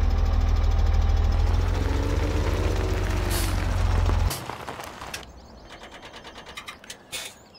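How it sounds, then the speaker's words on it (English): Engine of a tractor in the video game Farming Simulator 17, a loud steady low drone with clanking mechanical texture that cuts off abruptly partway through, followed by quieter scattered clicks and knocks. "Move the tractor a bit more."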